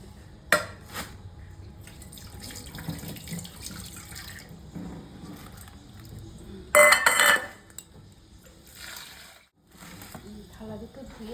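Two plates being rinsed under a running tap at a kitchen sink, water splashing steadily with a brief louder gush and clatter midway, while a voice talks over it.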